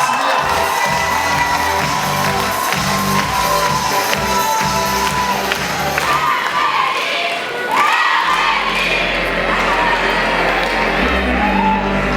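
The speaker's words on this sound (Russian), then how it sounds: "Аплодисменты." Loud audience applause and cheering at a university talent show, sustained clapping with whoops and shouts filling the hall, then dropping briefly before a band's music begins.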